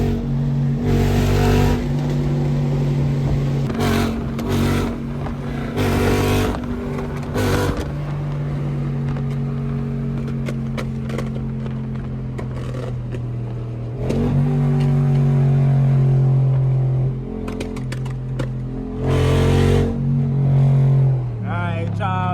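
A tuned Dodge Hellcat SRT rumbles along a highway, its deep burbling exhaust loud and close throughout, swelling with throttle blips and revs; someone talks over the engine.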